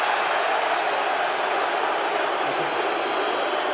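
A rugby sevens stadium crowd in Cape Town roars in a broad, steady wash of noise, a dense and sustained sound with no single voice standing out.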